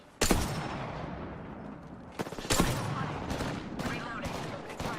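Rapid bursts of gunfire from a first-person shooter video game, loud automatic volleys that come in clusters with short gaps between them, while a player's voice talks over the action.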